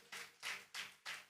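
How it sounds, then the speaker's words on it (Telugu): A church congregation claps loudly in four broad, rhythmic bursts, close and full, with no talking over it. "గట్టిగా చప్పట్లు కొట్టండి."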